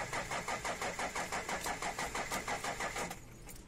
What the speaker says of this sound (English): The engine cranks but slowly and doesn't start.